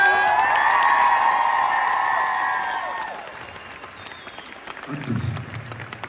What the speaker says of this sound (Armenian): ձեր ծափահարությունները